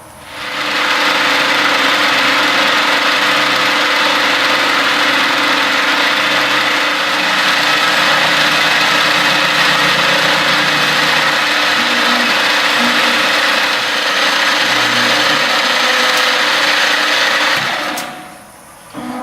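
CNC machine with a flat nose cutter trimming the side of a Glock 19 slide, a loud steady high-pitched milling whine with grinding mechanical texture running continuously for about seventeen seconds before winding down.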